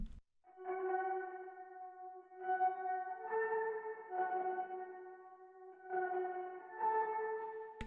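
A layered synth counter-melody in a music loop, sustained bell-like tones with echo and reverb tails playing in repeating phrases, loud and alone with no voices.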